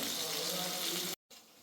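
Water drains steadily from cooked rice in a home kitchen, making a continuous rushing, splashing pour that cuts off abruptly near the end.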